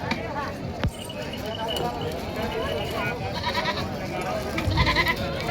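Goats, a nanny goat with two kids, bleat faintly amid a noisy goat market yard, with a sharp knock early on and a louder bleat near the end.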